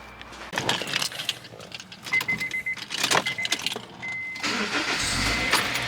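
Keys jingle and a car engine cranks in uneven bursts, then catches and settles into a steady running hum near the end.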